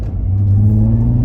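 A car engine rises in a low, smooth rev during a rev-matched shift from first into second gear, heard loud and close from inside the car with no talk.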